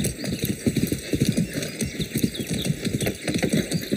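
A horse's hooves clip-clop in a steady, quick rhythm in the video game Far Cry 6, close and continuous over a faint mechanical background hum.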